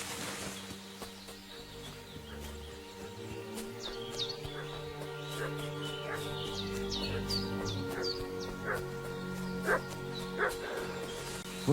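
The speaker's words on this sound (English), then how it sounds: "What's that dog making such a fuss about?" A dog barks repeatedly in the video game Kingdom Come Deliverance 2, sharp yips at irregular intervals from mid-distance, set against a rural backdrop of chirping birds and steady ambient tones.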